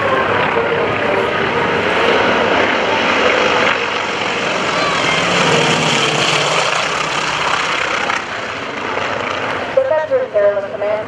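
Trojan Horsemen aerobatic team aircraft flying in trail at an air show, a loud sustained propeller engine roar passing overhead while an announcer talks over the public address.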